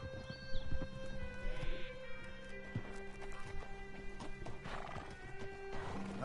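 A horse in the Red Dead Redemption 2 video game whinnies and clip-clops along, hooves steady beside a couple of neighs, set against faint game ambience.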